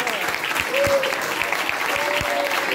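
Steady applause from a magic show audience, many hands clapping in a dense continuous wash at close range, with a couple of brief vocal exclamations rising over the clapping.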